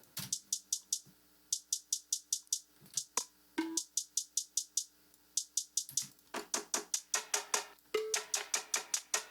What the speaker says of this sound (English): we have these hi-hats.